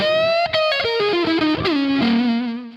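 Overdriven electric guitar recreating a classic studio tone from a UK album, a loud distorted blues lick with sustained bent notes stepping downward and ringing out alone.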